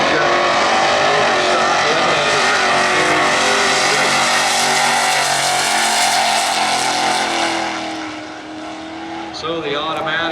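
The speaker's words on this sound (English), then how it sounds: "So the automatic doing its work, engine doing its work, and Robert doing now." A drag racing car with an automatic transmission roars loudly and steadily at a Norwalk Division 3 points race, dropping off briefly near the end, with a commentator talking over it.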